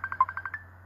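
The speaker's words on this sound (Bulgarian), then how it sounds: "Пак се звъни." A telephone gives a quick string of about seven short electronic beeps in an even pulse that stops abruptly, fairly clear against a low steady hum, no one speaking.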